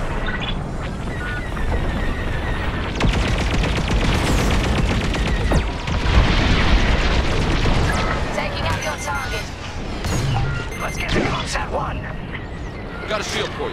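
Laser blasts and explosions from space dogfights in Star Wars Squadrons, dense booms and rapid zapping fire crowding together and bursting near and far, with people talking over the combat.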